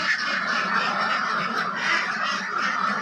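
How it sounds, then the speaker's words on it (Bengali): Ducks on a duck farm quacking and chattering in a continuous busy flock, moderately close, with a faint voice in the background. "আমাদের খামারের যে হাঁসগুলো এখানে কিন্তু দুই ধরনের হাঁস আছে"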